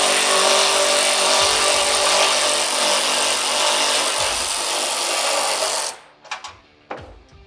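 A power tool whirs loudly and steadily while removing a 13mm bolt from the roof of a CFMoto UForce 1000, then cuts off sharply, followed by a few clanks and knocks.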